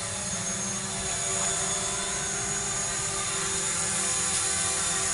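A DJI Mavic Pro drone hovers near the ground and blows leaves around, giving a constant high-pitched propeller whine over a rough, whooshing rumble.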